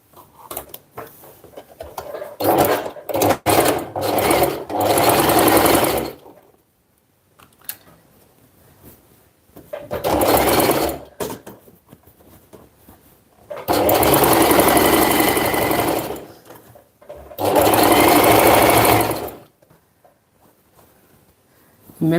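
Home sewing machine at a handmade crafts table stitching in several bursts of steady, rapid whirring, with short pauses and clicks between runs, close by.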